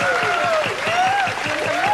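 A studio audience on a Japanese variety show applauds in a thick, sustained wash of clapping, with a voice and a gliding musical tone running over it.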